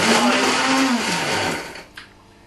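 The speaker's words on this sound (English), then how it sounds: "Put the lid on, and now liquidize." A blender liquidizes a meatball mixture, a loud close motor whine that shifts pitch as it churns, then winds down and stops near the end.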